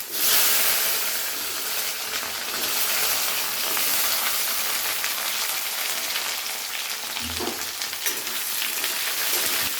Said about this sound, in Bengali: আলুগুলোকে প্রথমে একটু হালকা করে ভেজে নেব